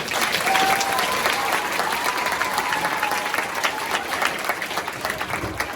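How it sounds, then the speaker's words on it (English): Elementary school audience applauding a high school drum ensemble, sustained dense clapping from a crowd throughout, slightly uneven toward the end. "Hey, we give them one more round of applause."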